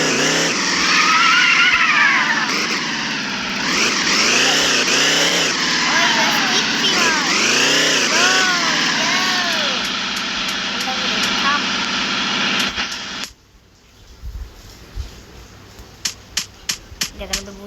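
A motorcycle engine in the video game Chicken Gun drones and revs in rising and falling sweeps. It plays loudly throughout under a talking voice, then drops away, leaving sharp clicks.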